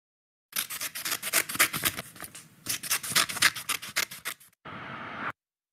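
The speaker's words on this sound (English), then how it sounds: "Scissor, cutting paper" Paper being cut with scissors, a quick run of crisp snipping strokes in two bursts, followed by a brief steady rustle of paper, close and clear with no talk.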